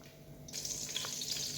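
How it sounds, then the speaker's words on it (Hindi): Cold tap water runs onto boiled egg noodles in a kitchen sink, starting abruptly as a steady, hissing splash that continues close and even to the end. "उसके बाद इसमें ठंडा पानी डालना है"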